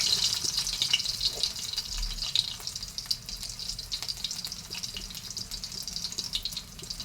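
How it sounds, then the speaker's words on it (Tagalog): Small shrimp frying in a home kitchen pan, a continuous crackling sizzle with scattered sharp pops, close and steady, with no voices. "ang gawin ko is iprito ko ang ating shrimp"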